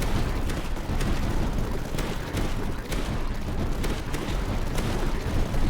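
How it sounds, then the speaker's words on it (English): Dense, continuous battle din of mortar fire and explosions from the Tower Dominion strategy game, a steady roar of booms and blasts with sharp thumps dotted throughout, loud and unbroken. "Those mortars are doing decent enough job."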